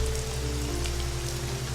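Steady rain patters on surfaces in the video game Risen 2, a soft, even wash of drops that continues without a break under a low ambient hum.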